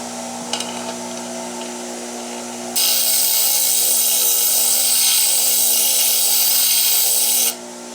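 A bench grinder with a coarse number 36 wheel hums steadily up close, then a dresser is pressed against the spinning wheel, adding a harsh, loud grinding scrape for about five seconds before it drops back to the motor's hum.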